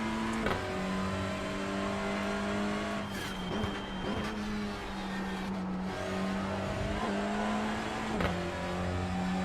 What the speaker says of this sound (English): You love the sound of this car, it sounds amazing.